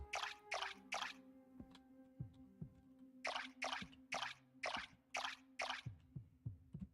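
Watering crops with a watering can in Core Keeper: a run of short splashy pours, two or three at first, then five more in a quick row, over soft low game tones.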